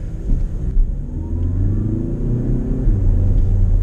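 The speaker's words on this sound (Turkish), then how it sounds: "Yarı gazda neredeyse tam devir çevirdi araba" An Audi A3 fitted with a sprint booster revs at half throttle, a loud, close engine rumble climbing steadily in pitch as the revs build.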